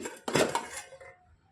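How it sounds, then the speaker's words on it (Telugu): A metal lid is lifted off a steel pot of steamed buffalo-milk junnu, giving a short, close clatter and clink of metal on metal that rings briefly and fades, with no talk. "మూత తీసి చూసుకుందాం"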